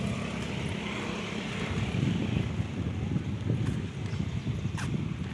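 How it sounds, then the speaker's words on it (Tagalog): Strong wind buffets the microphone outdoors during a walk, a steady loud low rumble with gusts swelling and easing throughout, no voices. "Ang lakas ng hangin."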